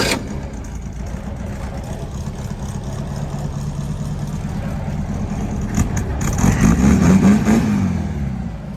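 A small engine fed from a dirty boat fuel tank, just after a carburetor rebuild, idles roughly in a steady low rumble that swells louder near the end before settling back.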